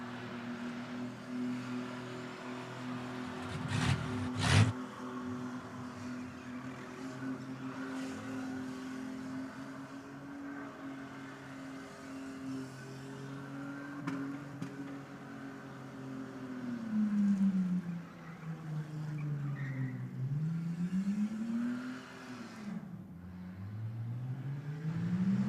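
A car revs and drones at a skid pad event, with the engine note rising and swooping as it slides through turns, steady and moderately distant, with a couple of sharp knocks early on.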